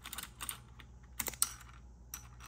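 A Logitech K845ch keyboard with Cherry MX Blue switches gives off faint plastic clicks and taps as keycaps are pulled and pressed on, in scattered bursts over a low hum in a quiet room.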